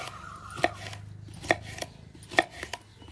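A knife chops okra (lady's finger) on a board in a home kitchen, with sharp, distinct cuts landing at an uneven pace, clear and close with no one talking.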